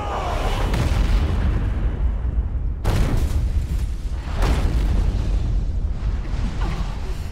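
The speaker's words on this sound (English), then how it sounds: "Cannon fire! All tanks scatter!" Heavy cannon fire in Valkyria Chronicles 4 booms through the battlefield, with several loud blasts landing in turn over a continuous roar of rumble and debris, and no voices.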